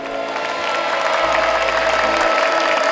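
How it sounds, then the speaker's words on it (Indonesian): A studio audience applauds the panelists on a televised talent show, a steady wash of clapping and some cheering that holds at full strength for the whole stretch. "Lah, tepuk tangan dulu buat para panelis."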